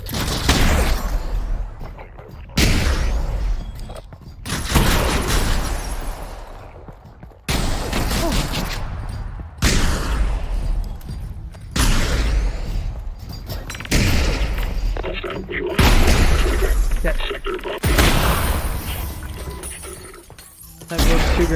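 Grenade blasts in the VR shooter Half-Life: Alyx, a run of loud, sharp detonations roughly every couple of seconds, each with a crashing, shattering decay that fills the clip.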